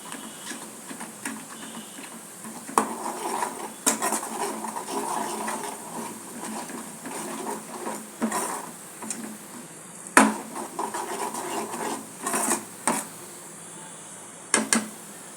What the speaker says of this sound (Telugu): ఇక్కడ ఆవాలు నేను వేడి చేస్తున్నాను